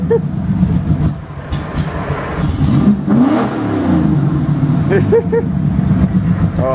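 A dirty old Ford 5.0-liter V8 with a T5 manual transmission revs nearby with a loping idle, rising and falling in loud bursts while people talk over it.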